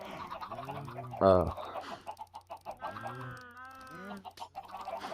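Minecraft chickens, from a video game, cluck repeatedly in short bursts, with one louder squawk early on, close and busy, no talking.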